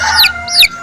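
A chicken clucks twice in quick succession, loud and close, with short squawking calls.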